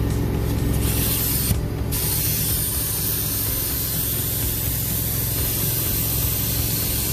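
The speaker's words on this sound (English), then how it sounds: "See how he's spraying the stuff down?" Cleaner is sprayed onto a car's interior carpet, a loud continuous hissing spray over a steady low machine drone, with no pauses.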